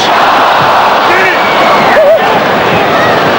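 A packed basketball arena crowd at a 1992 Boston Celtics versus Chicago Bulls game roars continuously and loudly, with an announcer's voice heard over the noise.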